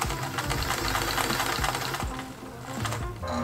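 A serger sewing machine stitching the edge of a dress bodice, running in fast close bursts of rapid mechanical chatter with short pauses between runs.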